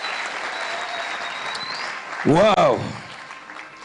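Church congregation applauding, a broad wash of clapping and crowd noise that runs throughout at moderate level, with a voice exclaiming loudly near the middle.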